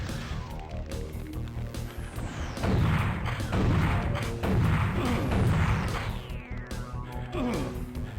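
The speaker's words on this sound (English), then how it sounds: "Something is shooting me right now." Gunfire and explosions hitting the player's vehicle in the arena shooter Necrodome, dense booming blasts and rattling impacts over a constant game rumble, with descending sweep effects.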